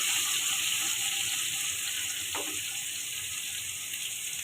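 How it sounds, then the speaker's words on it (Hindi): Tomatoes go into a pan of frying eggplant, with a loud, steady sizzle and hiss throughout and a brief soft thud partway through. "अब हम इसमें टमाटर डालेंगे"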